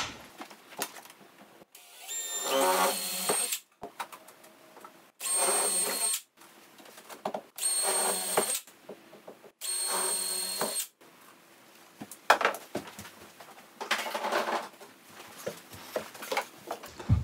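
Several short bursts of power drilling pilot holes into a wall for a TV mount, each a few seconds long, separated by quiet pauses, close and fairly loud.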